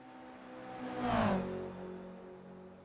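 Simulated GR Cup race cars run wheel to wheel down a final straight, engines rising into a loud whooshing pass in the middle and then fading, with a steady engine drone underneath.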